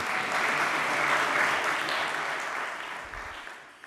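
An audience in a full conference room claps steadily for several seconds, a dense and loud wash of applause that slowly fades toward the end.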